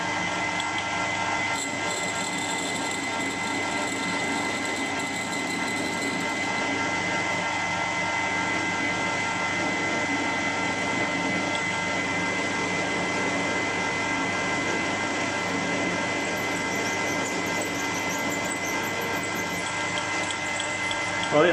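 A steady, loud mechanical whine with dense tonal hum runs throughout as a larger drill bit bores into metal, continuous and unbroken.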